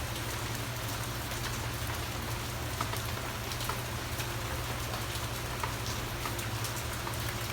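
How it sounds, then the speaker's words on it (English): Rain pours down in Key West as a constant, wide hiss with scattered sharper drop taps on nearby surfaces, even in level throughout and with no talking. "It's nice to hear the sound of rain though"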